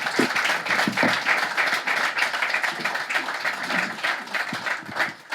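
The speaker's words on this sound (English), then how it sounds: "Round of applause." An audience at a live panel talk on advertising technology claps steadily, a dense wash of applause that holds for several seconds and tapers slightly at the end.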